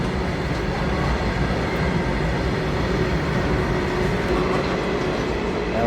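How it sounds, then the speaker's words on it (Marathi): Nandura railway station, with a passing train filling the air with a loud, continuous rumble and rolling wheel noise from start to finish. "मी आता आहे नांदुरा रेल्वे स्टेशनवर"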